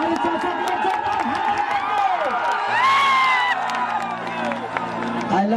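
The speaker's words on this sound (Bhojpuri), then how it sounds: "तो मैं चाहता हूं कि जोरदार ताली वाले हमारे चाचा के लिए" A large outdoor crowd at a live stage show cheers, whoops and claps, a dense continuous roar of voices and applause, with shouting over the top and a brief swell of cheering midway.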